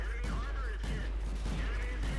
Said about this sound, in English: I just pumped shots into him until he died